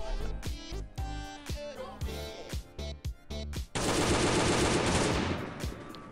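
Gunfire from a weapon in the video game Last Day on Earth: a string of sharp separate shots, then a dense, loud continuous burst of rapid automatic fire over a background music bed.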